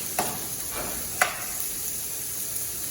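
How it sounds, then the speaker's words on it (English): Pancetta sautéing in a little olive oil in a pan gives a soft, steady sizzle with a couple of faint stirring scrapes, close and alone. "So we're gonna let it saute now."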